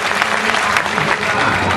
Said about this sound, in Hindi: तो जरा ताली वाली बजाओ जरा।